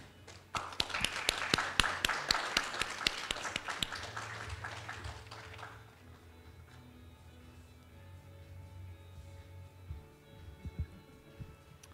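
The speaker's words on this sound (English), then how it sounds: "Please give a round of applause as we welcome our dean to the podium for the opening remarks." An audience at a spring admission open house claps in dense, close applause for the dean walking to the podium, loud at first and fading out after about six seconds into a quiet room hum.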